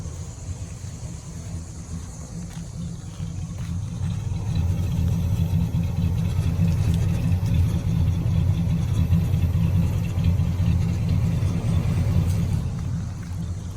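A 1977 Ford LTD Coupe engine idles with a low, steady rumble and smooth hum, swelling slightly midway and holding evenly, close by with no talking.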